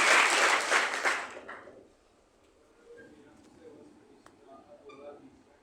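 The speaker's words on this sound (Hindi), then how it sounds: "एक बार जोरदार ताली होनी चाहिए हेमलता के लिए।" An audience gives loud applause for Hemlata during a basic training session. A strong burst of clapping fades out within about two seconds and leaves quiet room sound with faint voices.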